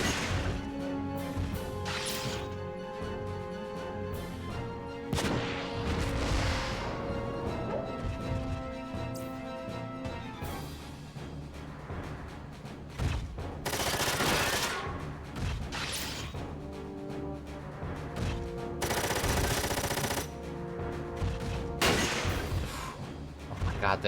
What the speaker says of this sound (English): Yep, it's a lot of missiles.